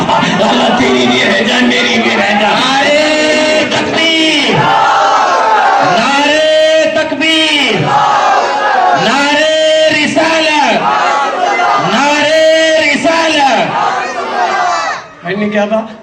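A large crowd at a religious gathering roars back in unison after a Nara-e-Takbir call, repeated loud chanted shouts rising and falling in waves that swell and fade several times before trailing off.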